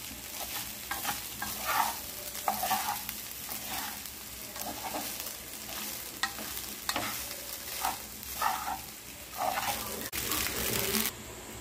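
Veg fried rice with black pepper powder is stirred and tossed in a sizzling pan, the spatula scraping in repeated irregular strokes over a soft, steady frying hiss.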